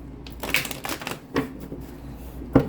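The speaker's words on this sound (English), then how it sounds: "One more shuffle for Taurus." A stack of tarot cards is riffled and shuffled close by, a few quick papery bursts with soft flicks between them, no voices.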